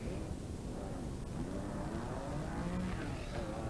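A Porsche rally car competing in the 1982 Rally of the Lakes at Killarney roars past with a steady, loud engine note that rises slightly in pitch, with no talk over it.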